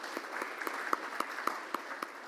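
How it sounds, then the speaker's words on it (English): Audience applause at a Rotary Club of Tulsa meeting after a birthday announcement, a steady patter of many hands clapping, moderately distant and fairly quiet, with no talk over it. "Let's give him a round of applause."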